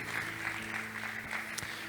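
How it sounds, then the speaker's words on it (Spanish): A church congregation claps together in a short, steady burst of applause, moderately loud and close, with a faint voice under the clapping. "dar un aplauso a Dios"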